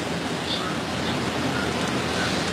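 Steady broadband rain falling, a constant dense hiss that stays even and continuous throughout with no voices over it.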